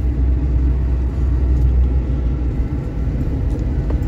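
A car rolls slowly through an RV resort in Branson, Missouri, its engine a steady low rumble and road hum that stays close and even throughout, with no talking.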